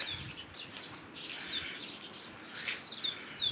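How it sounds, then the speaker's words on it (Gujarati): Sparrows perched around birdhouses give faint, scattered high chirps and tweets over a low background hum, coming in short bursts that grow a little busier toward the end. "અહીંયા ચકલી બેઠી છે મસ્ત કેવી સરસ બેઠી છે"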